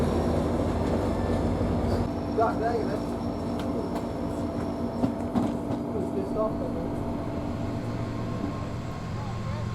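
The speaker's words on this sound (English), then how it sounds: "The Tyner local was coming back running light with a former Union Pacific Snoot-Nose SD40-2, leading a former Norfolk and Western SD40-2" Two former SD40-2 diesel locomotives, a former Union Pacific snoot-nose leading a former Norfolk and Western unit, run light on the main line with a steady, loud engine drone and rumble throughout, plus brief higher tones and some voices in the background.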